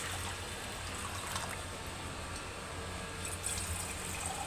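Water runs steadily from a tap into a pot filling up for heating, a close, continuous splashing trickle with no voices.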